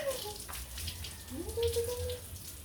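Running shower water splashes steadily at low level while a dog is bathed, with someone talking softly over the spray.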